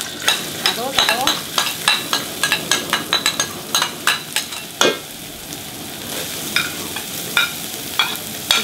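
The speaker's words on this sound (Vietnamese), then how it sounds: "Để bảo cho rau nó chín thì mình sẽ xào qua" Carrots and beans stir-fried in a pan ahead of making egg fried rice, with a steady sizzle and repeated quick scraping, stirring strokes of a utensil against the pan throughout.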